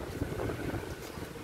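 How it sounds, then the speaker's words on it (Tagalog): Strong wind at Hinoki Village in Chiayi, Taiwan buffets the microphone outdoors in a steady, loud roar of broadband gusts that lasts the whole moment. "ang lakas ng hangin"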